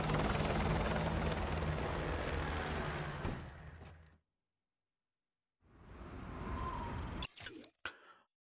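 A helicopter in the video game Call of Duty: Modern Warfare 2 Campaign Remastered rumbles loudly and steadily with heavy rotor noise for about four seconds, cuts to silence, then returns with a fainter engine drone amid sharp mechanical clatter.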